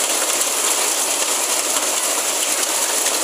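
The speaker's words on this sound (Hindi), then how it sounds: "बुनिया लेक में इस समय जो है ओले पड़ रहे हैं" Hail pounding down at Bhuniya Lake in the mountains in June, a dense, loud, continuous hiss of pelting ice with no breaks or talk.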